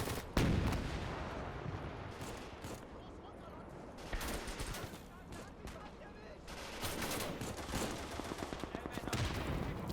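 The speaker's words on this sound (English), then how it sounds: "nice main gun shot there" Main gun fire from tanks in a Gates of Hell battle between Soviet and German forces, heavy booming shots and scattered gunfire rolling through a dense, continuous war-game soundscape.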